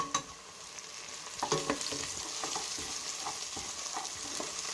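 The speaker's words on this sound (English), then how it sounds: "So we're just going to mix this well." Vegetable soup ingredients with thyme mixed in a pot over heat: a constant close sizzle with a cluster of spoon scrapes and clatters early on, then continued quieter stirring, with no talking.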